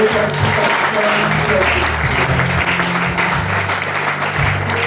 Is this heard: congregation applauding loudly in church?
yes